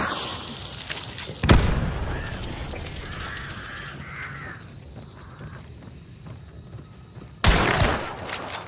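A Winchester gun firing in Hunt: Showdown, two loud sharp shots spaced several seconds apart with echoing tails over a quiet outdoor game ambience.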